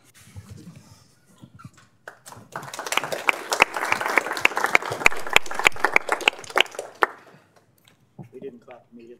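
A small lecture audience claps after a physics lecture on differential cohomology, with scattered claps that swell into a few seconds of applause and then fade. Voices are heard at the start and end.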